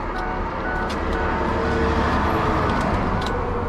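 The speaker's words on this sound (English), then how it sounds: "it started, but it's chugging pretty bad" A Ford box truck engine runs roughly at idle, a loud, dense rumble with an uneven chugging rhythm and a few faint higher ticks on top, continuous throughout.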